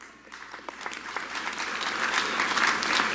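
Applause at a college commencement ceremony grows from scattered claps into a dense, sustained round from a large audience, filling the hall.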